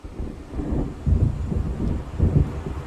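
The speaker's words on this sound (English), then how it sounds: "It seems there's a storm coming." Thunder from an approaching storm in the Alan Wake video game rolls in as low, heavy rumbles, with two louder swells over a steady dark roar and no voices.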